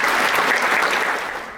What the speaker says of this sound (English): So let's give a round of applause again for